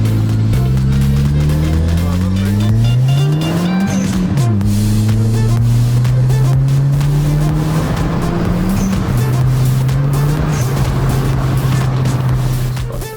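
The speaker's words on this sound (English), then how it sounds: "You hear the turbo speed." A loud Dodge Caliber SRT4 engine, making 330 wheel horsepower with an aftermarket Corksport bypass valve, revs up through the gears with rising pitch, a turbo spooling and whooshing over the engine roar, heard from inside the car.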